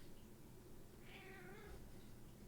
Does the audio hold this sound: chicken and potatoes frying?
no